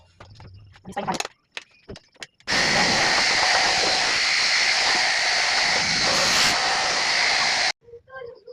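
An electric hand mixer whirs steadily for about five seconds, stirring a batch of homemade dishwashing liquid, with brief clicks and handling noises before it starts and after it stops.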